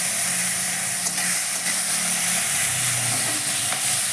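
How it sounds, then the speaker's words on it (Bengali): Chopped onion fries with garlic in hot oil in a pan while it browns lightly, giving a steady, close, continuous hiss and sizzle with no talking. "হালকা লাল লাল করে, বেশি লাল করার দরকার নেই, একটু ভেজে নিচ্ছি।"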